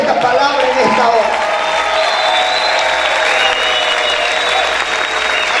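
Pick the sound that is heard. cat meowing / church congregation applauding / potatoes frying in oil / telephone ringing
church congregation applauding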